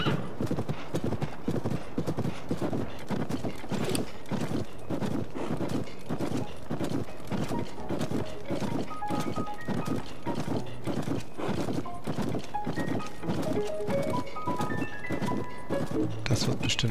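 Horse hooves from Zelda: Tears of the Kingdom clip-clop in a steady, fast galloping rhythm throughout, loud and close, with an occasional neigh, game music and sound effects layered underneath.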